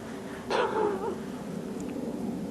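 A dog out on a walk beside a fence gives a single short bark-like yelp, fairly close, standing alone over steady outdoor background noise.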